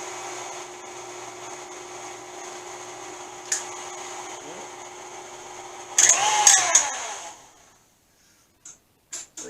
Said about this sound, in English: Turn the machine on your speed. And pull towards you. Release the handle. And we got lathe action.